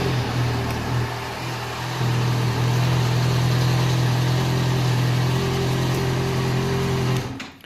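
A Yamaha FZ6R motorcycle engine turns over and settles into a steady, rumbling idle, close by and loud, then cuts off at the end.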